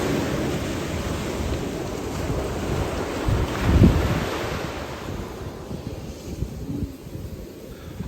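Sea waves break and wash along a beach in Oman, a continuous loud surf roar mixed with wind buffeting the microphone, one surge peaking midway before easing.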